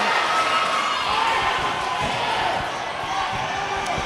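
A high school boys basketball crowd boos and shouts in disapproval after a foul call, a loud, dense swell of many voices in a gym, fading slightly toward the end, with a commentator speaking over it.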